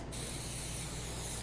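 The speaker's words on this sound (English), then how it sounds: "I suggest afterwards spraying it with a little bit of Crown and Glory" A spray bottle misting Crown and Glory over a hydrangea flower arrangement gives one steady, close hiss that runs unbroken for the whole moment, with no talking.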